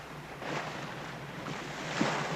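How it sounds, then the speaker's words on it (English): The research ship Calypso's engines give a low, steady throb at sea, half buried under broad wind and water wash, with no clear beat over a couple of seconds. "the quiet throb of Calypso's engines does not disturb the whales"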